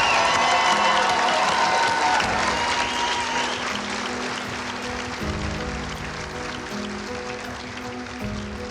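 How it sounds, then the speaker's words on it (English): Studio audience applauding and cheering after a custom chopper bike is unveiled, a dense, steady roar of clapping that starts loud and slowly tapers off, with faint voices underneath. "Let's give them one more round of applause, everybody."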